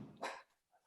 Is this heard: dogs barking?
yes